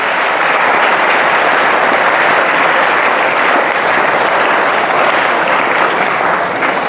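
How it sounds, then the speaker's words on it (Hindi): Loud, dense applause from a large crowd at a school event, sustained evenly for several seconds without pause. "एक बार जोरदार तालियां उन सभी के लिए।"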